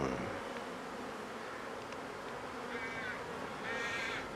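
Honeybees buzz around a small nucleus hive with a reduced entrance, a steady close swarm drone with a few louder passes flying near, while birds call faintly in the background.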